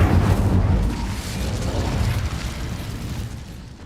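Incendio fire spell in Hogwarts Legacy erupting as a loud, deep whooshing burst of flame with a heavy low rumble that slowly settles into a sustained roar.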